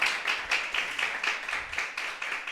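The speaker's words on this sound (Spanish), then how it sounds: "Dale fuertes palmas al Señor Jesucristo si quieres aplaudir." A church congregation claps together in a steady, even rhythm, many hands striking at once in repeated bursts, with no talking over it.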